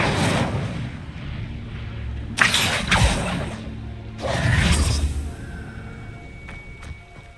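In the video game Hogwarts Legacy, an Incendio fire spell is cast, giving a couple of sharp bursting whooshes and crackling blasts over a rumbling game background, loud and close, with no speech.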